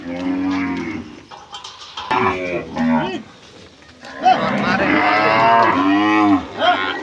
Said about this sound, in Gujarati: કેટલી ગાયો છે તમે જોઈ શકો છો અસંખ્ય પ્રમાણમાં ગાય